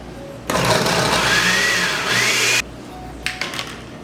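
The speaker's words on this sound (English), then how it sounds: "Just going to be basically putting in everything to your blender." A motorized blender blending vegetables whirs loudly for about two seconds, its pitch rising and falling, then cuts off; a few short clattering bursts follow.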